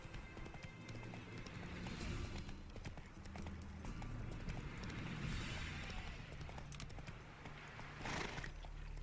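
Horse hooves clip-clopping at a steady trot in The Witcher 3: Wild Hunt, a continuous clear rhythm set against a busy game soundscape.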